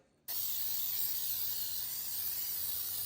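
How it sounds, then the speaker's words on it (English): A sudden close burst of Baker's Joy aerosol baking spray hisses continuously for a few seconds into a cake pan after a brief quiet start. "We're going to spray it with Baker's Joy."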